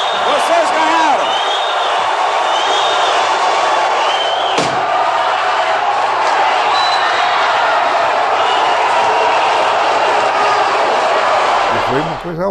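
A large crowd boos, a loud, sustained roar of many voices with individual shouts cutting through from start to finish, plus one sharp bang near the middle.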